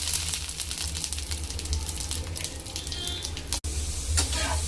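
Grated coconut roasting in oil in a pan, giving a steady soft sizzle and crackle with faint scraping clicks, close and continuous with a brief dropout near the end.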